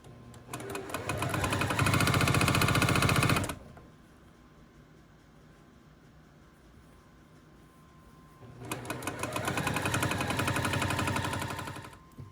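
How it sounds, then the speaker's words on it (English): A sewing machine stitching purple and yellow quilt triangles into half-square triangles for a flying X quilt block runs in two loud, steady bursts of rapid needle chatter, separated by a quiet pause of several seconds. "I am going to match each one of these up with a yellow triangle and sew those together just like I did with the white"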